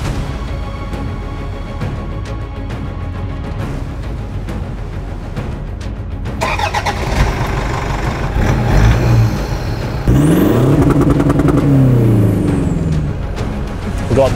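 A boosted Toyota Hilux engine runs loud and close at idle, then revs harder in rising and falling surges, with a turbo whine and hiss heard as it builds up under load.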